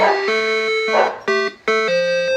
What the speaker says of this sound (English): You hear the dog barking?